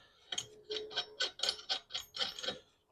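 A wrench ratchets a nut onto a bolt while a Yakima OnRamp bike rack is assembled, giving about nine quick, close clicking bursts in a steady rhythm with no talk.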